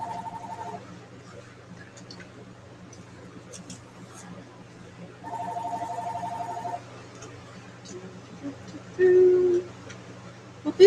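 A telephone rings indoors in two short electronic bursts several seconds apart, faint against a quiet room hum, followed by a brief higher beep.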